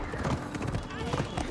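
A horse gallops and lands after a long jump in Assassin's Creed Odyssey, its hooves clopping in quick, uneven beats under someone talking over it.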